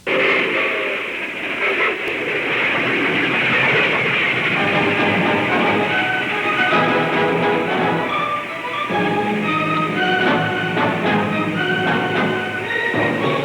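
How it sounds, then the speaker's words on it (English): Steady rumbling train noise with rhythmic rattling and clatter, continuous and fairly loud throughout. "a very special train began an epic 15-day journey from New York to Salt Lake City, Utah"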